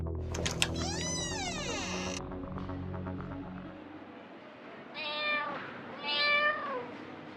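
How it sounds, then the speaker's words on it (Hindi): A cat meows indoors: one long, drawn-out wavering meow, then two shorter meows a few seconds later, over a low steady room hum. "ये बिल्ली भी ना।"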